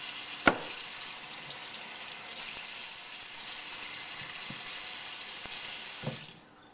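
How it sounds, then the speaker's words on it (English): Water splashed onto a sharpening stone during knife sharpening, a faint running, hissing wash with a brief knock near the start and a few small taps, fading out at the end. "I'll periodically put water on it, washes off some of the old slurry, and kind of refreshes the stone."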